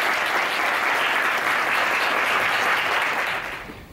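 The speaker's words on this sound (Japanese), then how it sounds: "丁寧な拍手をお願いします。" Steady audience applause fills an award ceremony for a local Rotary club culture and sports prize, dense and sustained before tapering off slightly at the end, with no voices over it.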